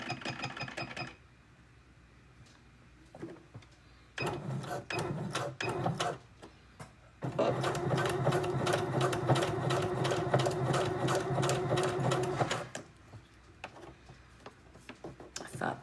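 A sewing machine stitches a strap in two runs of rapid, steady mechanical clatter, a short burst followed by a longer sustained stretch, with quieter pauses between them.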